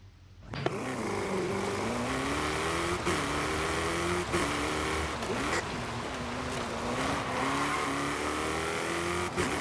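A rally car in the racing game Forza Horizon 5 drives continuously, its engine droning and shifting pitch up and down as it accelerates and eases, loud and close throughout, with no talk.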